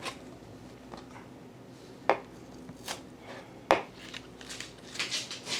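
A poor-quality kitchen knife chops ingredients diagonally for chilled sesame noodles. A few sparse, sharp chops land on the board against a quiet kitchen background.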